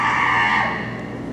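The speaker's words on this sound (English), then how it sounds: "Those are shrieking eels." Shrieking eels sound effect from an elementary school stage production of The Princess Bride: a loud, sustained shrill screech that fades slightly toward its end, with no talking over it.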